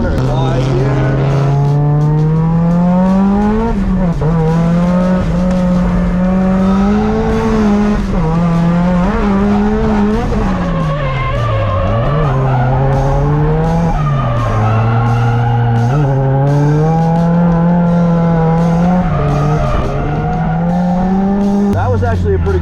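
A drift car at the Meihan track in Japan, its engine droning loud and steady with rising and falling revs as tires squeal continuously through the corners, and a voice talking throughout.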